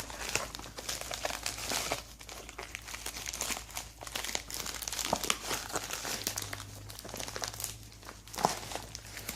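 A plastic parts bag for a 1971 Honda Trail CT70 is handled up close and gives a steady run of loud crinkling and crumpling with sharp crackles. It continues for several seconds and no speech is heard.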